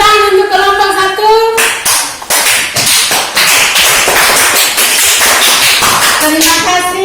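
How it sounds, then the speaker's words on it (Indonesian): A class of students claps for the first group during a fractions lesson. The clapping is loud and busy and goes on for most of the stretch. A child's sung or spoken voice comes before it and returns after it. "Kita tepuk tangan untuk kelompok 1."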